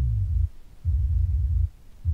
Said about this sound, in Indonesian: Untuk bass low nya suaranya kayak gini nih.